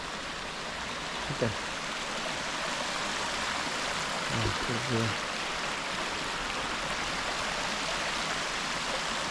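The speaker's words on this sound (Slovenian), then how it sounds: "da se pa res vidi, kako je tale termalna voda gre v reko" Thermal spring water in Tuscany pours into a river with a constant, even rushing wash that fills the whole scene, while a few brief spoken words rise over it.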